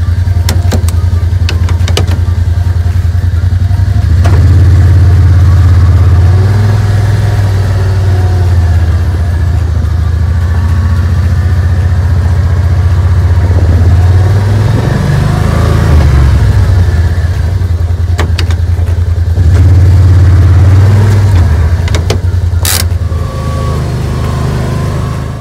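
A 1970s motorbike engine idles steadily throughout, its low rumble rising and falling in a few gentle revs, close and loud with no talk.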